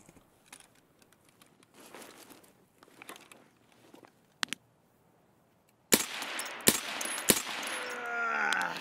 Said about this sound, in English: It sounded like an SA-58.